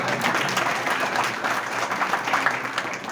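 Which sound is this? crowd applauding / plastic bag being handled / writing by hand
crowd applauding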